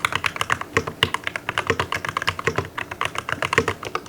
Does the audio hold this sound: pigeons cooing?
no